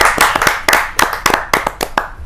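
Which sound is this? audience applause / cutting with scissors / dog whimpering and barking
audience applause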